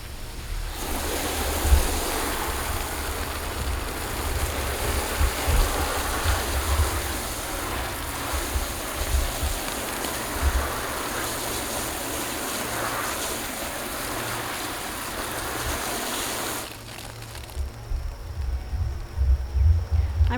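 Water spraying over an all-weather car floor mat during cleaning, a continuous rushing hiss for about sixteen seconds that cuts off suddenly, leaving quieter low rumbles and drips.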